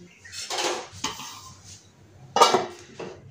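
Metal lid set onto a pot of drumstick curry cooking on high flame: a few close clattering clanks and scrapes of metal on metal, with a brief rattle at the end.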